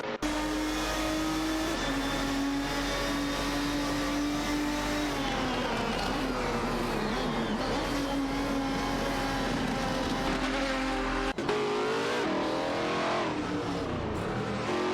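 Ferrari 575 GTC race cars in a video game race, engines droning loud and steady with shifting revs and a sharp gear change near the end, no voices.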